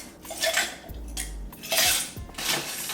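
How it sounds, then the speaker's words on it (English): Ice cubes clatter into a glass or mixing vessel for a cocktail, several sharp knocking and clinking bursts close by, separated by brief pauses and a low thud, with no one talking. "And I'm adding some ice."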